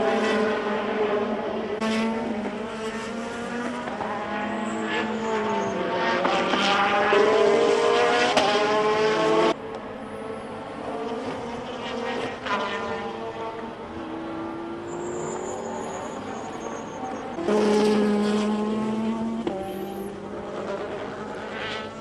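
GT-class race cars, including a Corvette and a Ferrari, roar past at full throttle in a 2011 International GT Sprint race, engines rising and falling in pitch as they pass close by, with loud overlapping passes and gear changes throughout.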